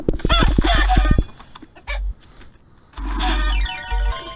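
A Minecraft Earth chicken clucks loudly in quick bursts, with a short pause and then another run of clucks close by; no one talks.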